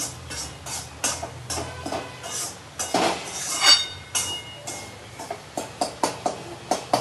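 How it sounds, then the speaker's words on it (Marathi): Metal spoon scraping and clinking in a pan as rava (semolina) with milk is stirred continuously over high gas heat, with irregular close taps growing into a steady rhythmic series of sharp clinks. "परत हलवत राहायचं सतत"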